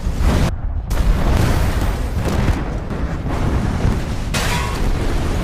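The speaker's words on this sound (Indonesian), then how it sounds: "Akibat dari ledakan tersebut" A deep, rumbling explosion roars through the scene, a dense sustained blast with crackling debris and rolling low booms, loud and close with no talking.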